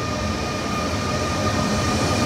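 Steady low rumble of a train at a station in Berlin, a continuous mechanical drone with faint tonal hum, close and constant with no voices.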